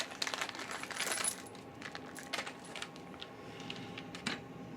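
Metal bolts for a go-kart grabbed and handled, giving close, bright clinks and jingles in scattered bursts, louder at first and then sparser.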